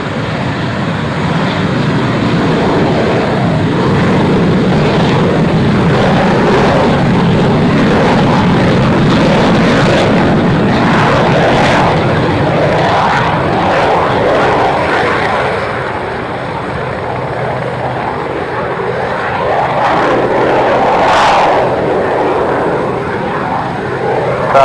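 Propeller aircraft Viper 1 taking off at an airshow departure day, a loud, steady engine roar building over about twenty-five seconds, close and continuous with a faint radio voice in the background.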